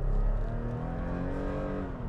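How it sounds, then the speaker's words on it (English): A Toyota Tacoma TRD Off-Road pickup accelerates on a road, its engine droning and rising steadily in pitch as heard from inside the cab, loud and continuous. "just getting out to get in front of traffic, the acceleration is not bad"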